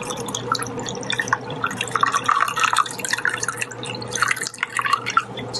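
Coffee poured quickly into a container, a steady bubbling, dripping trickle of liquid that stays close and fairly loud for several seconds, with no talk over it.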